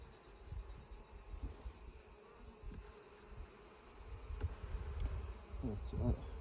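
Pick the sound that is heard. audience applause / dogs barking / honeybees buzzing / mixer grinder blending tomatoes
honeybees buzzing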